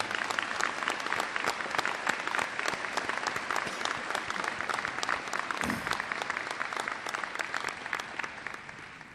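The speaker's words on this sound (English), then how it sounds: "Give yourselves a round of applause." An audience at a military unit sendoff ceremony applauds veterans with sustained, dense clapping, steady and fairly loud from start to finish with no voices on top.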